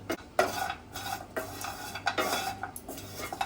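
Grated coconut dry-roasted without oil in a pan for a flaxseed garlic chutney, with repeated scraping and clinking strokes of a spatula against the pan in an uneven rhythm, close and clear, no voices.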